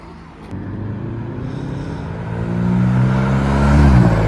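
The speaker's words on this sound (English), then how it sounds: "And a Porsche Cayman being used like a sports car should be." A Porsche Cayman accelerates hard away from a Japanese car meet in Reading, its engine note rising steadily and growing louder over four seconds, with a clear harmonic whine climbing through the revs.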